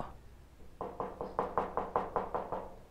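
A steady run of about nine firm knocks on a door, evenly spaced and growing slightly louder, heard close with no voices during the knocking.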